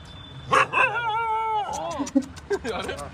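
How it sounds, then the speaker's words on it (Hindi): Hunting dogs barking close by, with short yips and whining yelps in quick succession over a few seconds, mixed with some voice-like sounds. "ओ भाई ये तो शिकारी कुत्ते हैं, खाने आए हैं"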